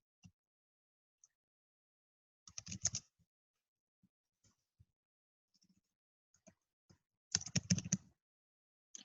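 Computer keyboard keys clicking as a search is typed, sparse single taps with two short bursts of fast typing, close and quiet against a silent background.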